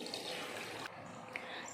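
Water pours steadily into a pot of sambar made with tamarind, turmeric and mashed dal, a continuous trickling splash close by that briefly cuts off and resumes.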